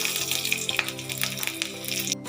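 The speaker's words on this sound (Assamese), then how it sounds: "শুকান জলকীয়া দুটা লৈছিলোঁ আমি, সেই দুটা ইয়াত দি দিছোঁ আৰু এয়া আদা আৰু নহৰুখিনিও আমি ধুনীয়াকৈ দি দিলোঁ তেলত" Dry chillies, ginger and garlic crackle and sizzle in hot oil in a pan, a steady, close frying hiss with scattered pops and a brief clatter near the end.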